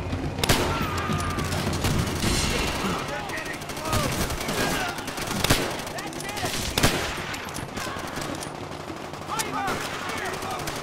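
Rapid rifle and automatic gunfire in the World War II video game Call of Duty: World at War, with dense bursts and sharp individual shots layered with battle noise and shouted voices.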